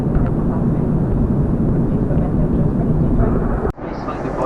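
Steady low roar of an Airbus A340-300 business cabin during descent into Paris Charles de Gaulle, a constant engine and airflow rumble with a brief dip near the end; no talk.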